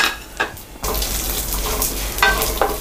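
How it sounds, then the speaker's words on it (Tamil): Whole spices such as fennel and cinnamon dry-frying in a pan for moong dal sambar, with a steady close sizzle and a few soft stirring scrapes, no voices. "சோம்பு, இது எல்லாத்தையுமே நம்ம வந்து போட்டு வறுத்துக்கலாம்"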